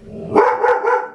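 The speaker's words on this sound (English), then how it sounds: "that's the dog, in case you didn't know" A dog barks indoors, two or three quick, fairly loud barks in close succession with no speech over them.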